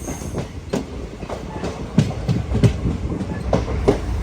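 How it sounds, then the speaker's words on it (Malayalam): A passenger train, the Sabari Express, arriving at Ottapalam railway station, heard from onboard as loud rhythmic clickety-clack of wheels over rail joints with a steady rumble and faint squeal, no speech. "ട്രെയിൻ ഇതാ ഒറ്റപ്പാലം റെയിൽവേ സ്റ്റേഷനിലേക്ക് എത്തിയിരിക്കുകയാണ്"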